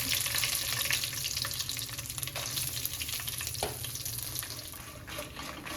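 Coriander seeds and dried chillies fry in a pan, giving a steady dense crackle and sizzle with faint scraping, close and alone with no talk.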